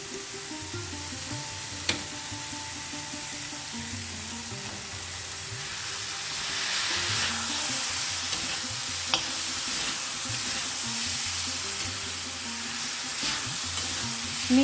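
Sago khichuri frying in a pan with spices, giving a continuous close sizzle broken by occasional scrapes and clinks of stirring, with no talk.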